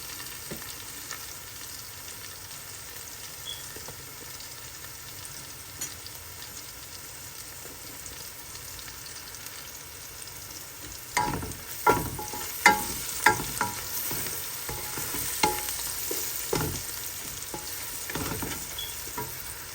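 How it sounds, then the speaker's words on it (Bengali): Onions frying in a pan for a whole rohu (katla) fish head curry, with turmeric, chili, coriander and cumin added: a steady low sizzle, then from about eleven seconds a run of louder sharp scraping stirs over the frying, with no voices. "পেঁয়াজটা সামান্য ভাজা হলে হলুদ মরিচ ধনিয়া জিরা পরিমাণ মতো দিয়ে দিলাম"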